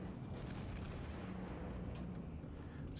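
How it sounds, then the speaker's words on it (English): Naval combat video game gunfire rumbles as a dense, continuous wash of booming shots and explosions, loud and steady throughout the stretch with no distinct individual bursts and no talk. "Somebody's taking pot shots at me."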